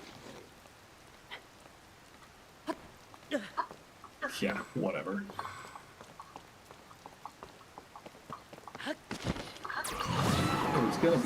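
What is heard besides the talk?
rain in video game Zelda Tears of the Kingdom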